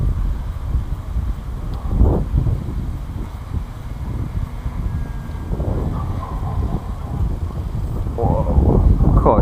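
Strong wind gusts buffet the microphone at night while a Parkzone FW 190 RC plane is flown, with broadband rumbling surges rising and falling throughout and a louder blast near the end, under intermittent talking.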